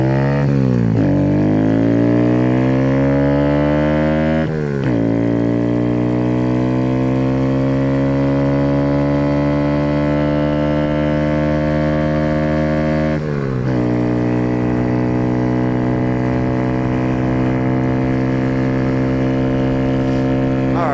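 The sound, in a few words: Kawasaki Z125 motorcycle with Empire Industries exhaust at wide open throttle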